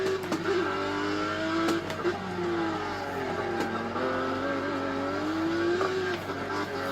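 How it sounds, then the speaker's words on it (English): A car drops down from fifth to third and then second gear without braking, the engine note rising and falling with each shift, a steady nearby tone with small revving changes and no talking. "so that's the downshift that I wanted. 5 to third, and then to 2 without brake pads"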